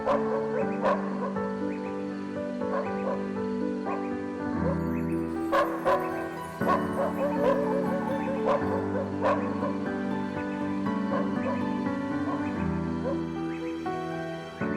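A dog barks repeatedly and whimpers over a long stretch, with irregular yips and whining cries mixed together, close and fairly loud, no voices present.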